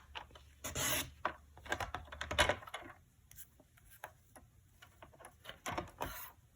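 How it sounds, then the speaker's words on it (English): Paper cardstock pieces are trimmed for a handmade tuxedo fold card, giving a few short rasping and sliding strokes, soft and close, separated by quiet pauses. "I'm going to trim off the triangle piece and trim off this little extra piece on the end here."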